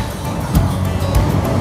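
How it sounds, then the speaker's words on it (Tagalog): Passing cars and road traffic on a street in Thailand make a steady, fairly loud broadband rumble, with a few swells as vehicles go by close and no voices. "yung ingay ng mga sasakyan"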